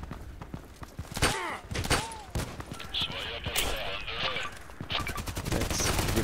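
Rapid bursts of gunfire from the shooter game Contract Wars crackle in quick volleys with sharp separate shots and short pauses, loud and close, while someone talks over them.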